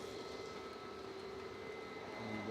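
An EasyJet Airbus A320 arriving at Manchester Airport from Pisa, heard as a faint, steady, distant engine roar with a low hum, with no distinct change over the short stretch.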